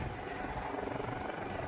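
A rescue helicopter hovers at night over a sea rock off Jindo, South Jeolla, hoisting stranded people by rope. Its rotors make a loud, continuous, throbbing drone.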